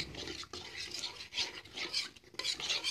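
A spoon stirs an egg curry with fried cauliflower and potato in a pot on medium heat, just after the rinse water from a mixer jar has been added, making close, wet scraping and sloshing strokes in uneven rhythm.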